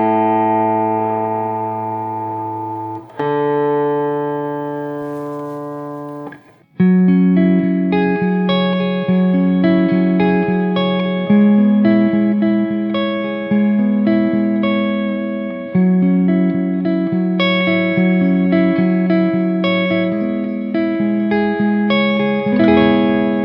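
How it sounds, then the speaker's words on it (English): Electric guitar played through a Boss Tera Echo TE-2 pedal set subtly: a few sustained chords ring out, then a run of picked notes and chords with a soft ambient wash trailing each one, clear and alone with no voices. "it sort of sounds like a light reverb, something that just gives a nice bit of ambience"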